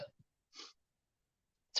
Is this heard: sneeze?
yes